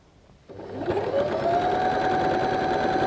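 A sewing machine starts up after a brief quiet moment and then runs steadily, stitching a hem on small doll's shorts with a loud, even mechanical whir.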